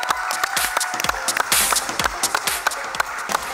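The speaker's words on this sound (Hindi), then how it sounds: "जोर से ताली बजाइए और स्वागत कीजिए राज डीके" A crowd at a Prime Video slate announcement event for The Family Man claps loudly and steadily for several seconds, a dense wash of applause with individual sharp claps standing out close by.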